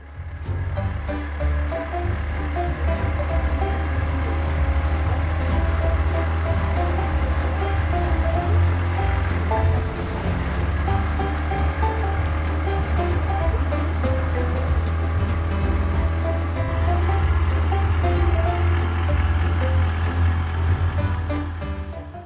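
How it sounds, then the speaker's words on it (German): A boat out on the sea off Bali, with a steady engine drone and the wash of waves running continuously and fairly loud, and no voices. "Das Boot ist da."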